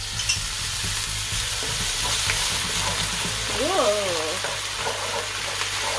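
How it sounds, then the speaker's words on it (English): Water poured onto hot sugar in a pan for caramel sauce hisses and sizzles steadily, with a brief surprised exclamation and light stirring over a low background hum. "And I add slightly of water, just like a little bit first."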